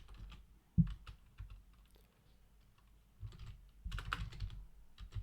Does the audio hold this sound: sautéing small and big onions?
no